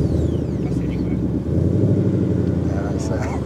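2021 Ford Mustang Mach 1 with 454 brake horsepower, its exhaust giving a deep, steady idling rumble close by.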